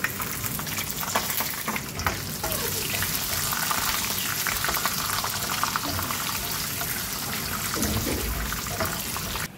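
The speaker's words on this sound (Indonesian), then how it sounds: "Goreng kacang dulu." Peanuts fry in a pan with a steady, close crackling sizzle of hot oil that runs without pause throughout.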